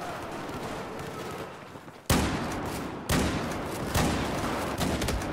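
Rapid bursts of gunfire in a Battlefield 4 multiplayer match on PS4, with loud sharp volleys starting about two seconds in after a quieter stretch and repeating in close, dense bursts.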